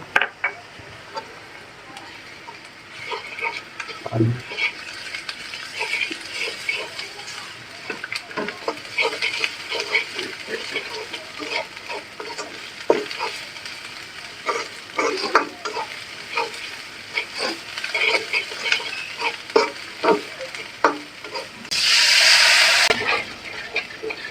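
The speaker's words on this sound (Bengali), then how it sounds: "মশলাটা কষানি হয়ে গেছে ভালো করে মশলাটা কষাই নিলাম মশলা দিয়ে" Spices with ginger, cumin paste, chili and turmeric stir-fried with chicken in a pan, a steady soft sizzle under repeated scraping and stirring strokes of a utensil, close and continuous.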